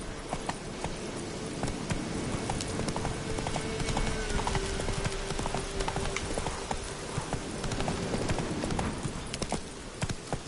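Horse hooves clip-clopping steadily in The Witcher 3, a close, continuous rhythmic patter layered over a dense game soundscape with a faint passing tone and a possible brief whinny.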